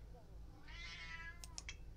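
A real pet cat meows in a drawn-out, rising and falling call followed by two short chirpy meows, close by over a low background hum, with a voice speaking in the room.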